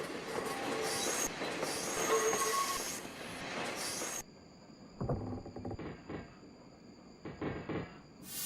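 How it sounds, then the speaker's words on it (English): An electric interurban train on a San Francisco to Sacramento line rumbles and squeals on its rails, then cuts to quieter stretches broken by bursts of hissing and clattering wheel noise, with no voices. "hearing hissing train sounds in the background"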